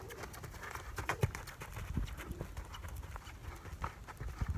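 Horse cantering on a lunge line, hooves drumming in a steady rhythmic clip-clop at moderate distance, fairly quiet against outdoor background noise.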